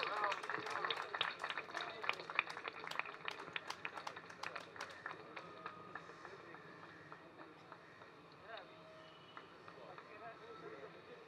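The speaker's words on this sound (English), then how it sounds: "Loud applause." Applause from an audience at an award ceremony, a dense patter of clapping that is strongest at the start and thins out gradually, heard at a distance with speech underneath.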